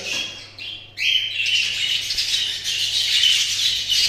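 Caged show birds, including a grey hen and a blue show cock, chirp and squawk in bright, busy bursts close by, a nearly continuous chatter of calls with no talking over them.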